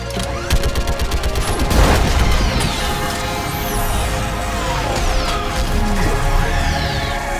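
Loud, sustained gunfire in the video game Mass Effect 3, overlapping shots and whizzing projectiles with a heavy burst near the start, continuous and close.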